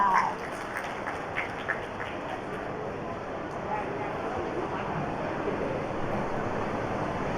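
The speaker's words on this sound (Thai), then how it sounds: "ขอเสียงปรบมืออีกครั้งหนึ่งนะคะ" Opening ceremony of a trade exhibition in Thailand, where the hall audience gives sustained, dense applause of many hands that continues steadily throughout, with a brief voice near the start.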